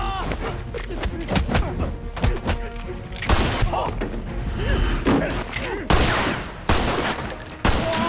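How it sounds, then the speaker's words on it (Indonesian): Gunfire erupts in a brutal film fight scene against gangsters, with scattered sharp shots, bursts of rapid fire and heavy thuds spread irregularly across the action, loud and close. "Tak mendengar suara tembakan"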